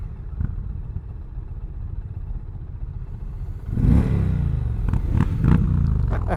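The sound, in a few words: Indian Challenger motorcycle engine revving on a demo ride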